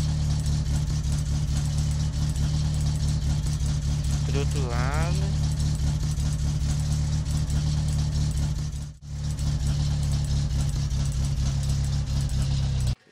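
The Satsuma's engine in the driving game My Summer Car runs with a steady idle drone, dips briefly near the end and then cuts out abruptly as it stalls, with a short spoken phrase partway through.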